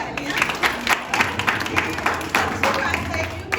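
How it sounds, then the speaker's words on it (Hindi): Loud applause with clapping from a church congregation, dense and steady, mixed with some murmuring voices and crowd noise throughout. "एक जोरदार तालियां"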